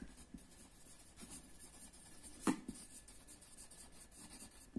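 A dark green colour pencil writes on paper, making soft, steady scratching strokes with a few brief louder scrapes. It is quiet and close, with no talking.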